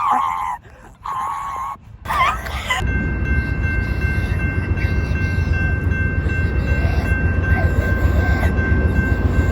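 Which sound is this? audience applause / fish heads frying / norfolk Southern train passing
norfolk Southern train passing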